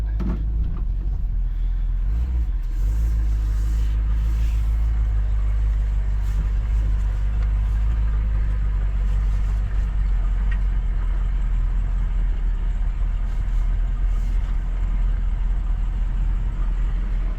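A 1958 Chevrolet Bel Air with a hole in its floor driving along, its engine a steady, loud low drone with road rumble filling the cabin from start to finish.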